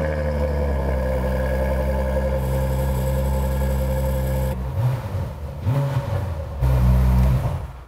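Ferrari F12 TDF engine held at a steady loud idle-high drone, then blipped in several sharp revs before a launch start, loud and close.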